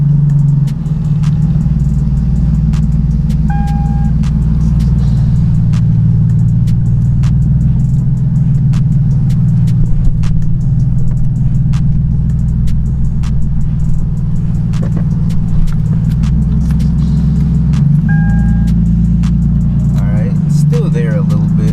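Car with a broken exhaust driving after a gas station stop, a loud continuous low rumbling drone with faint rattles, steady throughout.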